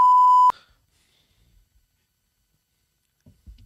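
A single loud, pure censor beep lasts about half a second at the start, followed by near silence and faint low rustles.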